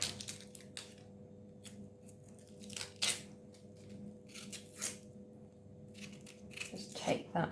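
Dry outer onion skin being peeled off by hand in a kitchen, a series of close crackly tearing and rustling bursts spaced irregularly over a quiet background.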